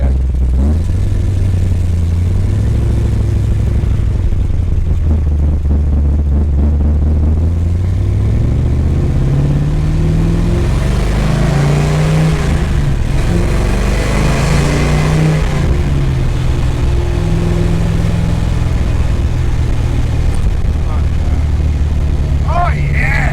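A 1966 Chevrolet Biscayne with a big-block engine and five-speed gearbox cruises in third gear, its deep, steady exhaust rumble loud and close, swelling as it revs, with a voice talking over it.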